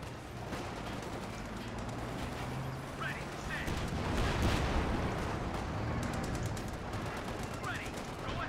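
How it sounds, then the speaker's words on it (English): Incoming artillery fire in Company of Heroes 2, with a steady barrage of booming shots and crackling gunfire running throughout, swelling louder around the middle, while voices talk over the battle. "Incoming fire!"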